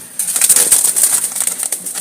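Jalali pigeons kept for sale make close, loud, fluttery sounds. Bursts of wing flapping and shuffling come through in a quick irregular rhythm over about two seconds, with no voices.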